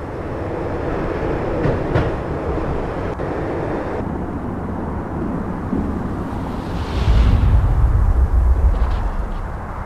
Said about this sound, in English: When the train he was riding slowed down, Gagniti made his move.